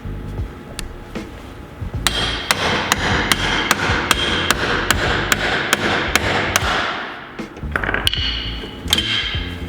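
A hammer strikes a pickle fork to break a ball joint taper on a classic Mini. There are about a dozen sharp, evenly spaced metallic blows, a short pause, then a few more hits close by.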